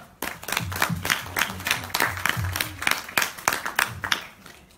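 A small game-show studio audience claps with a loose, irregular rhythm, moderately quiet and steady for several seconds.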